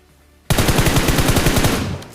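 Rapid bursts of automatic gunfire in a battle royale game, a dense run of close, loud shots starting abruptly and continuing steadily for over a second before tapering off.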